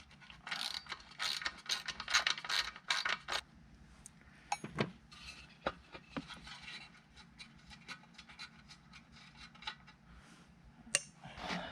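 A screw is loosened by hand on a 1940s Johnson Seahorse KD15 outboard boat motor, giving close, quiet, irregular metallic clicks, ticks and short scrapes, with no voices.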